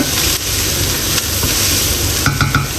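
Chicken pieces sizzle steadily in a hot pan while they slowly brown, a loud, dense, continuous frying hiss with a few brief clinks of stirring near the end and no talking.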